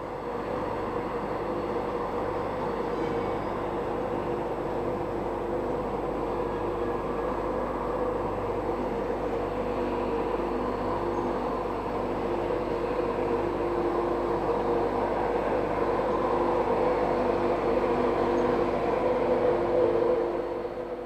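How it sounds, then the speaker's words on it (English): A train from the north pulls in alongside a lineup of Class 91 electric locomotives at an East Coast main line terminus, a steady rumbling drone with a faint electric whine, unbroken by voices. "A powerful lineup of Class 91 locomotives is about to be swollen by the arrival of yet another train from the north."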